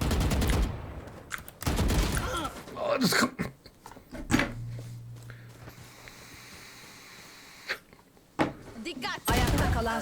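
Gunfire in the tactical shooter Valorant comes in loud, dense bursts separated by quieter stretches, with a few sharp single reports near the end of the round.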